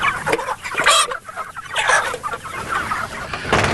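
Chickens in a movable farm shelter holding 75 birds cluck loudly and close by in overlapping, irregular bursts, with some squawks and no talking.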